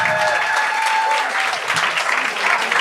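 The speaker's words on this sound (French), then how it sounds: "un tonnerre d'applaudissements pour Charles-Antoine Desgranges" A loud burst of audience applause greets a performer on a TV talent show, dense, steady clapping with cheering tones and a faint sustained tone woven through the first half.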